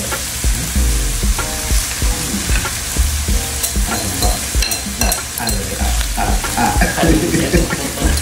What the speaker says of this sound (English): Now we are going to add that dan dan sauce that we made right into the pork.